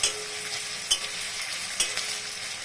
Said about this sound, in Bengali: আমি এখন এই যে খুন্তি দিয়ে কেটে কেটে দিচ্ছি।